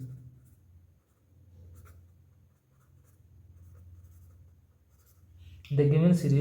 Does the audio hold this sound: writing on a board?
yes